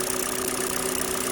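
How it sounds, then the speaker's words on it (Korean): A Kia K5 engine idles with a steady, close mechanical hum and fine rapid valve tappet ticking; its engine oil had gone unchanged. "자세히 들어보시면 전문용어로 밸브 태핏 니우다 같은 소리가 납니다."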